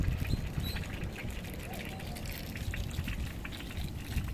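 Water rushing from a just-opened tap on a dirty water tank, a steady continuous gush with a low rumble and faint splashing, no voices present.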